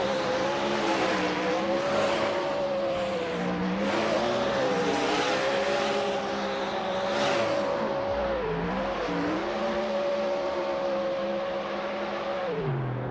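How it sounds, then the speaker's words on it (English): A Ford Mustang race car running a lap in a street-spec motorsport competition: a continuous loud engine drone with rising and falling revs through gear changes, tire squeal at moments, close and unbroken throughout. "Great run there by the lead car, the Mustang"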